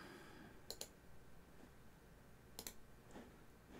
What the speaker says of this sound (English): You're gonna hear some mouse clicking.